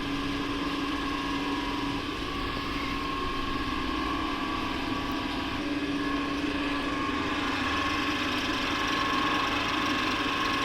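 A slip-ring induction motor runs at about 1400 RPM, giving off a steady, unbroken electric hum and whine with a constant tone, close and even throughout, with no voices.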